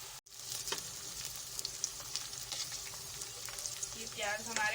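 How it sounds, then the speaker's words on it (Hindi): Onions fry toward golden brown in oil in a kadhai for Sindhi biryani, giving a close, bright sizzle with scattered crackles, a short stir, and a bubbling surge near the end. "उसमें मैं प्याज को गोल्डन ब्राउन कर लूँगी।"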